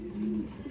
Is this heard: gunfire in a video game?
no